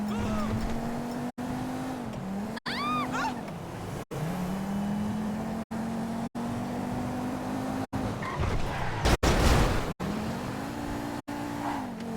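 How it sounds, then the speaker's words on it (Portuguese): Engine of a fast car in GTA V, a steady droning whine that rises and falls with gear shifts over about twelve seconds, with brief tire noise and a burst of louder roar near the end, continuous and close. "That is one annoyingly fast car."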